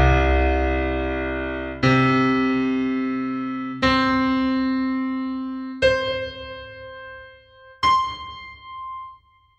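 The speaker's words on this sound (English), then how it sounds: "You can try to play all the C's on your keyboard." Five single piano notes, each a C played in turn up the keyboard, strike one about every two seconds and ring out alone, each rising in pitch and decaying before the next.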